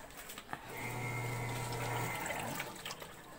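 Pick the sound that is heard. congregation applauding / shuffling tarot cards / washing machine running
washing machine running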